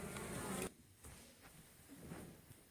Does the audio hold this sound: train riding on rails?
no